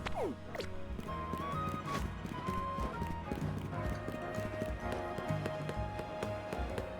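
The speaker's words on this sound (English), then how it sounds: "Listen to my footsteps." Rapid, evenly spaced footsteps of a character in the Pokémon Legends: Z-A Mega Dimension DLC, a clip-clop patter sounding close and fairly loud over steady in-game music tones, with no one talking.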